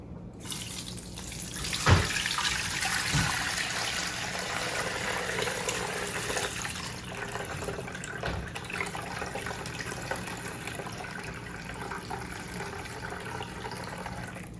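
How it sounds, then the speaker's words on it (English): Hibiscus drink pours and splashes steadily through a strainer into a container, a continuous trickling stream with a few clinks, close by and fairly quiet. "So right now I'm just gonna strain the drink."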